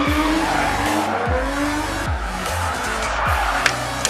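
A Ford Falcon drifting at a drift day, its tyres squealing in repeated long screeches over a loud, steady engine roar, with sweeping pitch shifts as the car slides through each transition.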